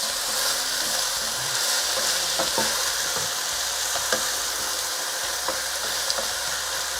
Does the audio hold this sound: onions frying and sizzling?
yes